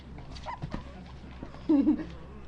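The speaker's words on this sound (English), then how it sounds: "Puppies." Soft, high whimpers and little yips from young dogs, a few brief cries close by, the loudest near the end.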